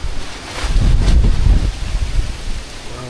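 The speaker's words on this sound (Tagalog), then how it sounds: "Sobrang hangin dito." Strong gusty wind buffets outdoors at a house site in Nasugbu, a loud rumbling roar that surges and eases over a few seconds with no talking.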